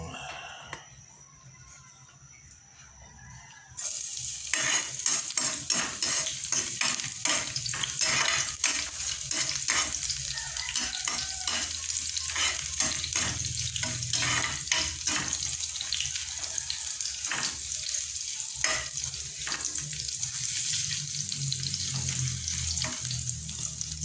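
Garlic hits hot cooking oil after a quiet opening, setting off a sudden, loud, continuous sizzle with dense crackles and pops that stays close and steady for the rest of the stretch.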